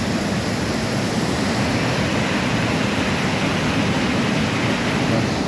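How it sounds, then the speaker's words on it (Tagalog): Loud, steady rushing water roars without pause, a dense broadband torrent close by with no voices. "Tubig, malakas ang tubig mga fishing."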